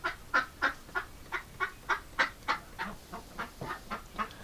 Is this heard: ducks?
yes